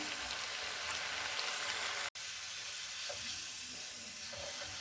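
Homemade french fries sizzling steadily in hot oil during a first short fry, a dense, close crackling hiss that runs on with one abrupt momentary dropout partway through.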